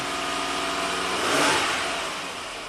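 A 1990 Buick Regal V6 with severe low power, running steadily with a broad mechanical roar that swells in a brief rev midway and then settles back, close and loud, with no talk.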